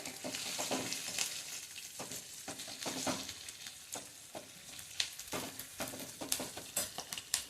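Chopped onion frying in a pan for a coconut chutney, a close, continuous sizzle broken by frequent scraping stirs and soft clicks of a spoon against the pan, with no voices.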